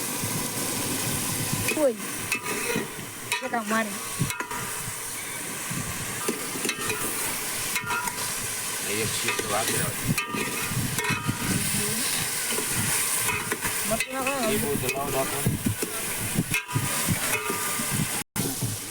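Gravy cooking in a pan with spices and salt, a continuous sizzling hiss broken by scraping stirs and clinks of the spoon, close up, while a person talks over it.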